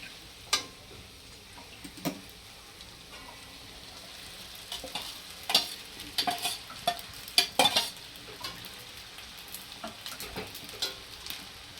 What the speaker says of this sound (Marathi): आता मस्त हलवून घेऊया छानपैकी एकत्र करून घेऊया बटाटे साबुदाणा